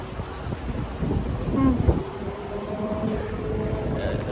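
Steady wind rumble and buffeting across the whole stretch, low and broad, with a faint distant church bell tone drifting through, in hot weather in Spain; no talking.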